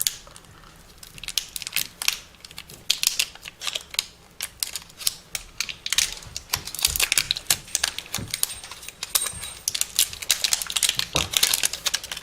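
Crinkly plastic battery packaging crackles and snaps in quick, irregular bursts as it is pulled and torn open by hand up close.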